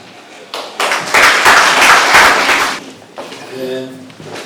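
A small live audience at a mental health and world homeless day event breaks into a short burst of clapping after a poem. The clapping swells, fades after a couple of seconds, and a voice is heard near the end.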